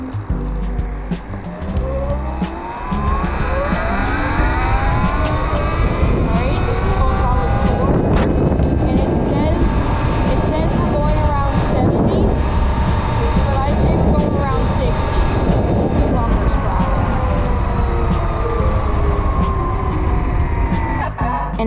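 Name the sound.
electric dirt e-bike motor at full throttle in sport mode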